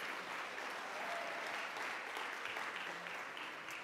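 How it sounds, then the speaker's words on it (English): An audience claps in a dense, sustained round of applause, even and steady from start to finish with no talking. "can we get a big thank you and a round of applause to all of our emerging artists?"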